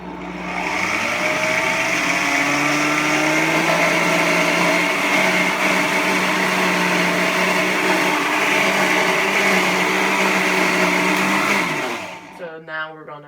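Blender running on a high setting, a loud, steady whirring motor hum with strong tonal whine held for about twelve seconds before it cuts off abruptly.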